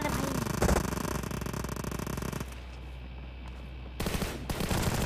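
M4 rifle fire in PUBG Mobile during a team deathmatch: dense, rapid automatic bursts fill the first half, ease to a quieter lull, then the loud firing resumes toward the end.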